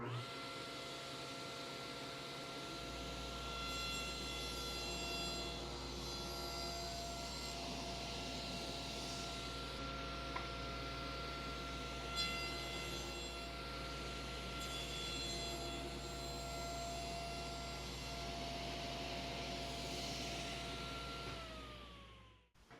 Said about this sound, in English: I'll make one pass, then move the fence over and cut a 1/2 inch dado.